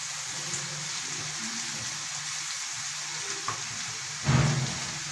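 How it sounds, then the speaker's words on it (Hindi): Ginger, onion and garlic frying in a pan for chicken angara, a steady soft sizzle that runs throughout, with a brief louder crackle and stir near the end. "Now ginger, onion and garlic, 3 ingredients are frying and very nice aroma is coming out of it."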